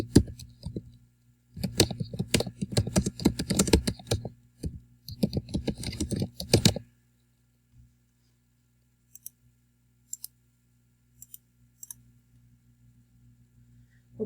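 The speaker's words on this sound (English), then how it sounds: "So we will go ahead and type the rest of these bulleted items." Computer keyboard typing a bulleted list in Microsoft Word, a dense, close run of quick key clicks for several seconds, then a few sparse isolated taps.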